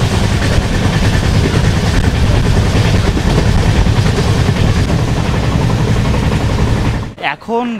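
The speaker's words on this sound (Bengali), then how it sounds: "আর 8টা বেজে 1 মিনিটে আমাদের ট্রেন ছেড়ে দিল বর্ধমান স্টেশন থেকে" A passenger train that has just left Bardhaman station rumbles loudly and steadily along the rails from inside the carriage, then the noise drops away abruptly near the end.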